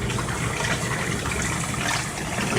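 Water draining from a portable compact washing machine after a rinse cycle, a continuous close rushing gush of liquid without pause.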